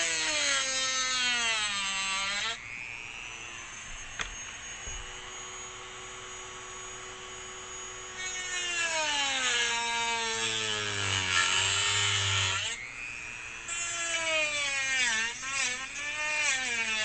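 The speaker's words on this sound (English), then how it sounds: "Now I'm gonna just trim it right here." A small high-revving power tool trims a toy car body, whining loudly with harmonic tones that rise and fall as it speeds up and bogs down while cutting, easing off in quieter stretches between passes.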